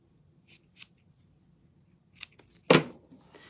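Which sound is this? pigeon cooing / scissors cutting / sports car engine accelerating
scissors cutting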